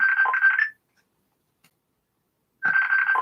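A telephone ring during a live call sounds as two loud electronic trilling bursts, separated by about two seconds of silence, with no voices.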